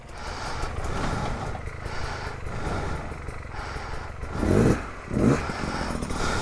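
A brand new KTM 300 two-stroke dirt bike is being ridden, a continuous raspy engine drone with two sharp rev bursts near the end, captured close with outdoor rumble.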